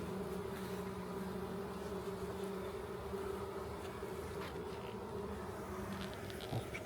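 Bees buzz steadily around the side of a beehive, a dense, continuous drone with close insects passing near and a constant hum throughout.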